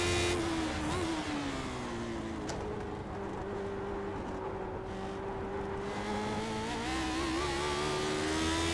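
A race car engine in a video game drones and revs steadily, its pitch wavering up and down as it holds a high whine, loud and continuous with no pauses.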